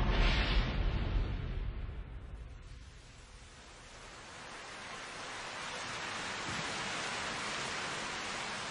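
Rain falling, a steady broadband hiss that swells at the start, dips briefly and then builds back to a constant wash, with no talk.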